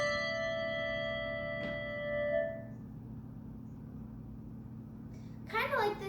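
Handbells rung with let-vibrate technique ring out in sustained overlapping tones that blend together, then fade away, with a short new bright ring near the end.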